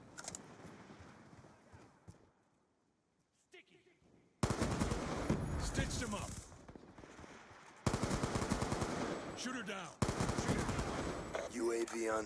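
Automatic gunfire in Black Ops 2, a multiplayer match with shots fired through smoke: quiet at first, then dense, loud rapid bursts dominating the back half in several sustained runs.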